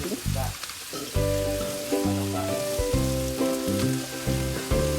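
Chili chicken frying in a pan, a loud steady sizzle broken by stirring scrapes and clatter, close and continuous with no talk.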